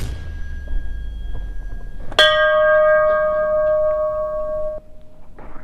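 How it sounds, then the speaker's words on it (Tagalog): A loud doorbell rings once with a sharp strike and a sustained metallic tone lasting about two and a half seconds, then cuts off, heard against road and engine background. "Grabe yung doorbell na yun. Ang lakas nun ah."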